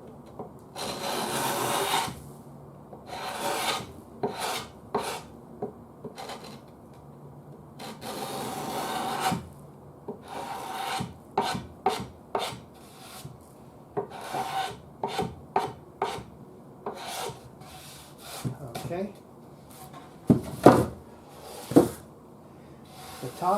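Bursts of rasping scraping as old finish is stripped by hand from the solid wood sides of a Zenith Boomerang radio cabinet, irregular strokes close up and moderately loud with brief pauses between.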